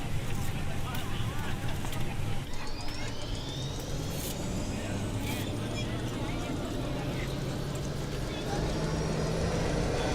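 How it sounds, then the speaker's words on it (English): An Airbus A320neo-family airliner engine spooling up on start in Microsoft Flight Simulator, a loud continuous low rumble with a rising whine sweeping upward, under a speaking voice. "Now we can roll on the starter."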